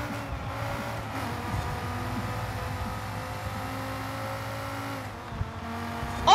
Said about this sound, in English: let's jump back in and hear the car a little more, shall we?